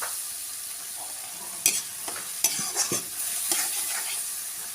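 Tomato paste and spices fry and are stirred in a pan, giving a steady hiss with scraping stirs and brief louder clatters of the spoon, close and alone.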